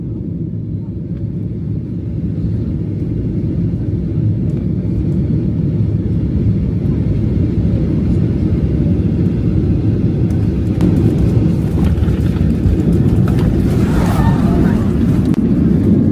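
Airliner landing in a strong crosswind, heard from inside the cabin: a loud, steady low engine and airframe rumble that swells slightly toward the end, with some brief rattles.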